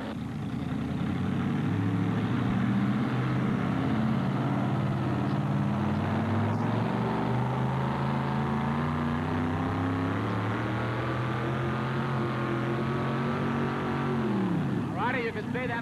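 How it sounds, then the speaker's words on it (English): A modified pulling tractor with a 426 cubic inch all-aluminum block engine roars steadily and loudly during a tractor pull competition, a sustained heavy drone that sweeps down in pitch at the end. "He's running a KB, 426 cubic inch, all aluminum block, keep black engine."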